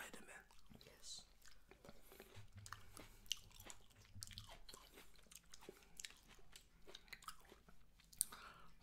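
Close, quiet bites and chewing of a fresh fruit platter, soft wet crunches repeating irregularly with faint whispery breaths and brief low murmurs between them.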